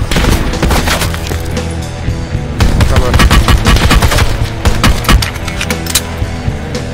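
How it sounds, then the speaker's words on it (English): Gunfire in the video game Call of Duty Blackout: dense, rapid automatic bursts and sharp shots crowd the whole stretch, loud and close. "Someone shooting at you?"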